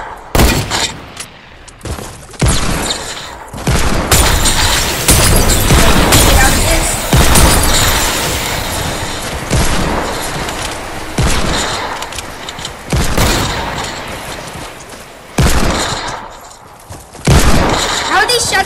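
Gunfire from a video game rings out in loud, dense bursts throughout, sharp shots and booms crowding together with a few brief lulls, while a player talks over the action.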